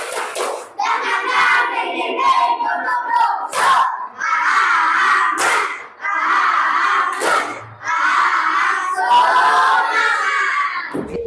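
Schoolchildren at an Indonesian primary school do a spirit clap: bursts of group clapping mixed with loud, excited shouting in a rhythmic chant-like pattern, broken by short pauses.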